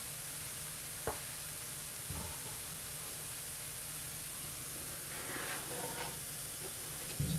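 Onions frying in a glug of oil in a hot pan, a steady soft sizzle and hiss with a few faint clinks and stirring sounds, no talking.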